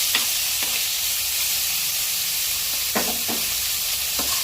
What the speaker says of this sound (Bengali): এবার মাংসটা ফ্রাই করে নিই।